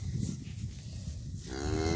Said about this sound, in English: we do kind of want to be careful of this cow here